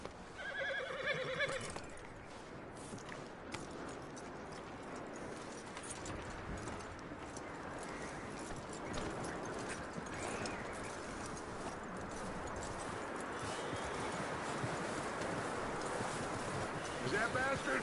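In the video game Red Dead Redemption 2, a horse whinnies near the start, then hooves clip-clop over a windy outdoor background while a voice talks at times.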